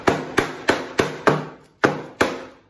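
A cake tin filled with walnut butter cake batter is tapped against a counter to level it, giving seven sharp, loud knocks in a fairly even rhythm with a short pause before the last two.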